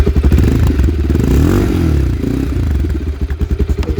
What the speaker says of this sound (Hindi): और अगर मैं बात करूं इसका साउंड का, तो इसका साउंड का अगर मैं बात करूं तो साउंड यहाँ पे सुन लो एक बार। ये देखो बाइक अभी ऑन हो चुकी है।